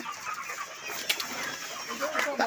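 Broiler chickens on a winter poultry farm fill the shed with a dense, continuous chorus of soft clucks and chirps from many birds at once.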